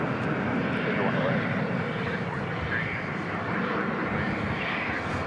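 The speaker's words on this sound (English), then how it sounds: "Taking off there, American Flight 369 to Santa Ana, California. The 737-800." A Boeing 737-800 jet airliner takes off at night at Dallas/Fort Worth airport, its engines producing a steady, broad roar that holds loud and even throughout, with a voice talking over it.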